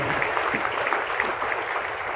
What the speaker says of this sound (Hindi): ऐसे हमारे गॉड फादर प्रवीण चंदन सर के लिए भी जोरदार तालियां होनी चाहिए साथियों